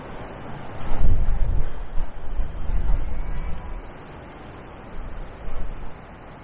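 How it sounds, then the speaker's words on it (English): Gusty wind buffets the microphone in heavy low rumbles beside a canal in snow, surging strongly early on, easing off, then returning in a couple of shorter bursts. "It's going to stay pretty windy today as well"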